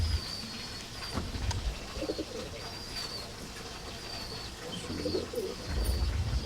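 A male Madrasi pigeon coos in low, soft, repeated bursts close by, with faint higher chirps from other birds in the background.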